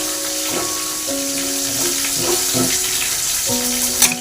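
A sprig of curry leaves hits hot oil with a little ginger paste, giving a loud, steady sizzle and crackle alongside faint tonal hums and a few soft clinks.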